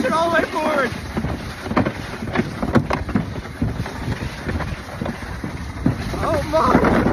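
A motorboat engine runs at full throttle, a steady roar mixed with heavy wind buffeting and water rush. Excited voices exclaim over the noise close to the microphone.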